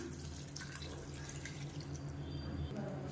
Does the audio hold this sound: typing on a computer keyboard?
no